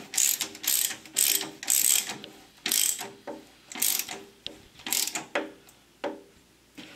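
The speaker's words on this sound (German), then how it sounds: "Dann können wir auch die hinteren Schellen festziehen." Ratchet wrench tightening the rear exhaust clamps while an SSI exhaust system is fitted to a Porsche 911 SC, a close series of short rasping clicking bursts in an irregular rhythm, with no talking.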